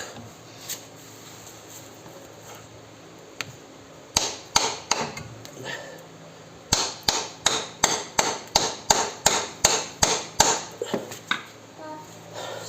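A hammer strikes a CV joint boot on a SEAT Ibiza 6L a few times, then settles into a steady run of about a dozen sharp, evenly spaced taps, close and clear.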